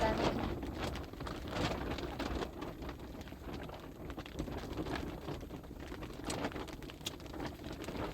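Steady rain falling outdoors in a snowy nomadic winter setting, a continuous patter on surfaces with soft wind, moderately near, with occasional faint bird calls and no talk.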